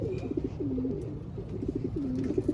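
Racing pigeon hens coo in a loft, soft repeated throaty coos from several birds close by, overlapping in short phrases over low rustling.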